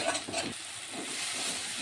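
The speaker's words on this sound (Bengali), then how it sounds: "টক দই দিয়ে আবার কিছুক্ষণ ভাজতে হবে" Spices and spoonfuls of sour yogurt frying in a pan for a Bengali jackfruit and prawn curry, a continuous close hiss and sizzle with a few stirring scrapes at the start.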